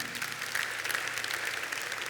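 A church congregation gives steady, dense applause throughout, a continuous wash of many hands clapping close and fairly loud, with no voices standing out.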